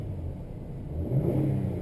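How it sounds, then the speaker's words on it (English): A 1999 Nissan Maxima engine idles with a low rumble, then revs up briefly and settles again smoothly, steady and close with no talking. "Let's rev it up a little bit"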